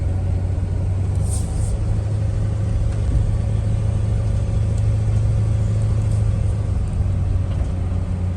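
A Ford truck engine idles smoothly, giving a steady low rumble that stays even and close throughout with no revving and no voices.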